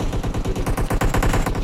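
Rapid bursts of automatic gunfire from the mobile battle royale game PUBG Mobile, loud and dense, with shots hammering in a fast steady rhythm for the whole stretch and no talk over it.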